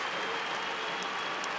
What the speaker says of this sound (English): Please give a round of applause for the new enlistees of the United States Marines